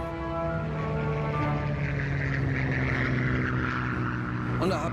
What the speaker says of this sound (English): And I wondered, what is that plane doing here? It was a Spitfire, no doubt about it.